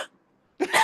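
A man imitates a cough, giving one short throaty hack after a quiet gap, close and dry.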